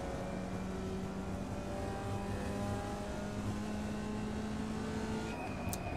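Formula Vee race car in the iRacing sim at Summit Point Jefferson circuit, a steady buzzing engine drone that eases under braking and climbs again on the throttle, continuous and close without any talk.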